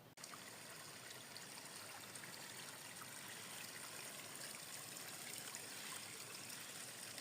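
River flowing beside a woodland path, a steady, soft broadband rush of running water continuing evenly throughout, fairly faint and without voices.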